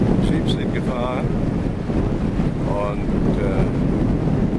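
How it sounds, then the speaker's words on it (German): Strong wind roars across a Cayman Islands beach, buffeting the microphone in a loud, continuous rumble with surf beneath, while voices speak faintly in the background. "Und es ist sehr windig"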